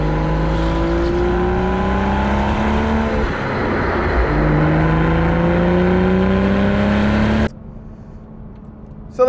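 A manual Toyota GR Supra on a race track on its first lap out, engine roaring loud and close. Revs climb repeatedly through the gears with brief dips at the shifts, then drop to a low idle-like drone.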